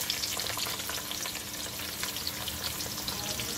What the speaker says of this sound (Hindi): और अब हम इसको अच्छा सा फ्राई करेंगे।